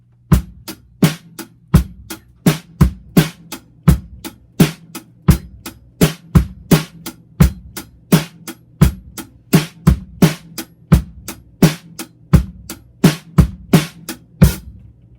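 Drum kit in a slow 5/4 groove with steady eighth notes: evenly spaced sharp hits with heavier low strokes marking each bar, recorded close and without any talking.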